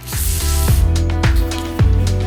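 Several short bursts of WD-40 aerosol spray hiss loudly and close up onto a Subaru Legacy strut spring seat, about four quick squirts in a row with brief gaps between them.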